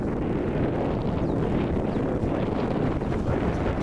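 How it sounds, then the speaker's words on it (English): A steady outdoor breeze on a warm day, buffeting the microphone with a continuous low rumble beside a work table set up outside in Alabama, even in level throughout with no talking. "There's a breeze blowing"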